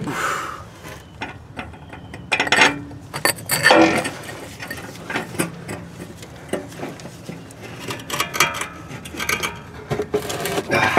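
Metallic clanks and ratcheting clicks of a wrench cracking loose E12 bolts on a BMW during rear wheel bearing removal, with sharp bursts of effort and scraping in a close, echoey space.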